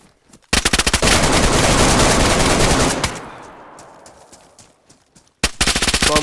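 Rapid automatic gunfire from a PvP video game, a dense loud burst that fades into a rumbling tail, then another sharp volley breaks out near the end.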